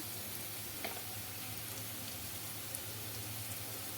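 Turmeric, chili powder, coriander powder and garam masala frying with onion in a pan, giving a steady, close sizzle with faint crackles throughout and no talking.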